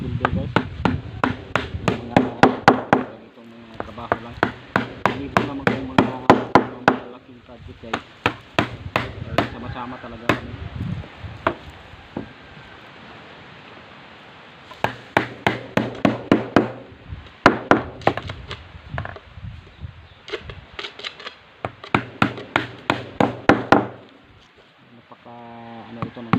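Bursts of sharp, rhythmic hammer blows ringing close by, several quick strikes per burst, separated by brief pauses with faint background noise.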